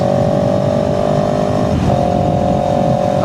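A CFMOTO CLX 700 Sport motorcycle engine runs loud and close under steady acceleration, a continuous droning roar with a sustained tonal whine that briefly dips and rises as it shifts.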